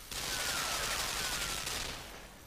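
A machine gun fires in the video game Limbo: a dense, continuous burst of rapid gunfire that holds loud for about two seconds and then fades, with no talking.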